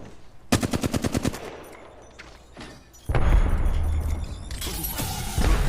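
Gunfire in Apex Legends: a rapid burst of automatic shots, then a heavy sustained barrage of booming fire with dense rumble, loud and close.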